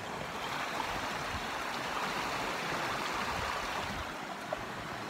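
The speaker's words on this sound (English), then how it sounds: "I'm next to a rushing creek of water." A rushing creek beside the listener, steady broadband water noise that fills the whole stretch at an even, close level with no voices.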